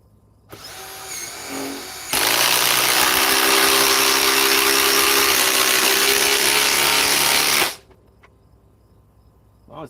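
A Ryobi power drill runs in one steady, loud, high whirring burst lasting several seconds, preceded by a short brief start and followed by quiet.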